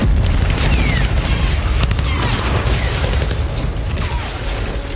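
Russian air strikes on Ukrainian positions in Donetsk: a dense, continuous roar of heavy booms and rumbling blasts, loud and unbroken across the whole stretch, with no clear voices.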